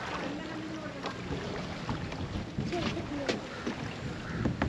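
Steady engine drone of a boat over rushing water and wind noise, continuous and fairly loud throughout.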